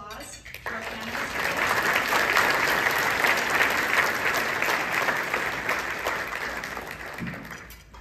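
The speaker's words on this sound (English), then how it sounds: "Let's give a round of applause to our panelists." Audience applause for a panel at an education conference on classroom behavior, a steady wash of clapping that swells after a brief lull and holds for several seconds before tapering off, with some voices faintly audible underneath.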